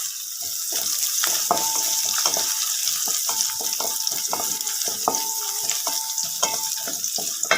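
Garlic and ginger fry in hot oil in a pan, a constant sizzle broken by rapid metallic taps and clinks of a spatula stirring against the pan, close and continuous.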